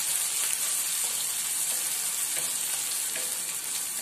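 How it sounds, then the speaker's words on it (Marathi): Finely chopped tomato being sautéed with onion over a medium flame, a soft, even frying crackle with faint stirring scrapes, close and steady throughout with nobody speaking. "हे एक 2 ते 3 मिनिट आपण मीडियम फ्लेम वरती परतून घेणार आहोत"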